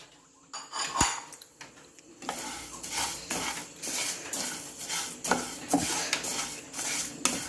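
Urad dal dry-roasting in a metal pan while a spoon scrapes and stirs it, giving close, steady clinks and scraping with a faint rattle of grains and no talking.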